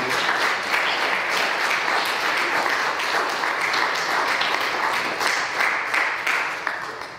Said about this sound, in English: just applaud them as well with our seniors